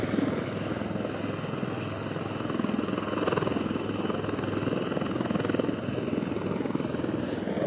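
A rescue helicopter hovers over the rocky bed of the Girna River near Nashik, with a loud, steady rotor thrum and engine whine that hold constant throughout.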